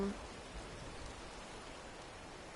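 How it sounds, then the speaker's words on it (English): Steady rain falls in the video game Fallout 76, an even, continuous hiss of moderate loudness that fills the whole moment with no talking over it. "like the rain. It's nice."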